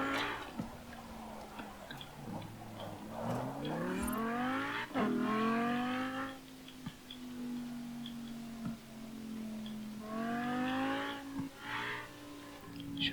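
A Lamborghini driven in the racing game Forza Horizon 4, engine revs climbing and dropping through repeated gear shifts, a sustained close roar with brief ticks and a tire chirp, no talk.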